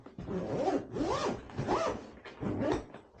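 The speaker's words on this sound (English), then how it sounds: "zip it up, and away you go" Four quick, close zipper pulls run along a Starlink travel backpack case as it is zipped shut, each a sharp raspy stroke with short pauses between.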